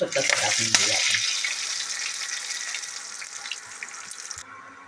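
Bay leaf and whole spices fry in hot oil in a home kitchen, giving a steady close sizzle with crackles and a few sharp clinks early on that fade slightly toward the end.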